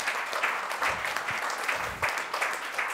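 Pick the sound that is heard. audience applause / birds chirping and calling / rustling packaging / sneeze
audience applause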